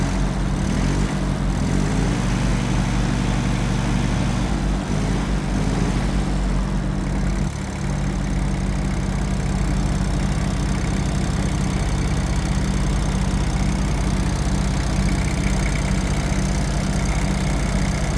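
The diesel engine of an Iseki TS3110F tractor with a front loader idles steadily and close by, a low continuous rumble with a throbbing rhythm that holds for the whole stretch.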